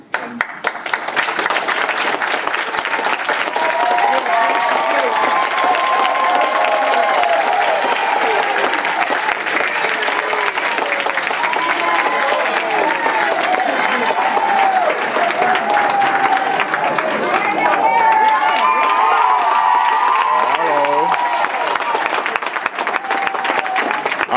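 A large audience at a Delaware mayoral candidates' forum bursts into loud, dense applause mixed with cheers, sustained without pause for over twenty seconds, with some voices buried in the roar.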